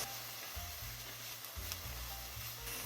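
Onions with minced garlic sautéing in a pan make a soft, continuous sizzle, with faint stirring scrapes underneath, close by and without talk.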